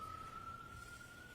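Siren from a passing emergency vehicle outside a courtroom, a steady high wailing tone held faint and distant over a low room hum, with no voices.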